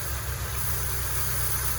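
A Peugeot Partner engine idles steadily at close range, a continuous low rumble with a faint exhaust hum and no voices over it.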